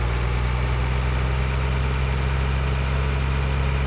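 A tractor engine in a farming video game labors up a hill with a steady, low, droning rumble that holds constant and fairly loud throughout, with no talk.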